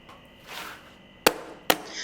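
A dessert tray is rapped twice on a tabletop, two sharp close knocks about half a second apart over faint background hiss.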